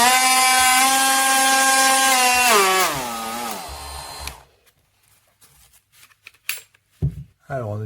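A SnapFresh cordless 20V oscillating multi-tool runs loudly and alone with a steady high whine, then its pitch drops as it winds down and stops; a few faint clicks and handling sounds follow.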